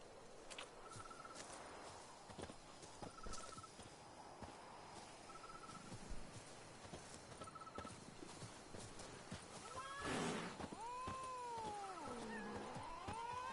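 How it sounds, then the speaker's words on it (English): Several cats meow and caterwaul in a sunny vineyard in The Witcher 3, rising and falling cries building to a loud yowl near the end, with horse hoof clip-clops and game ambience underneath. "Why do I have cats in my vineyard?"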